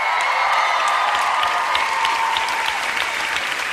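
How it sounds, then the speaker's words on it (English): Studio audience at a televised talent show results program claps loudly and continuously, with scattered cheers and whoops mixed into the steady applause. "a massive big round of applause for Ricky, please."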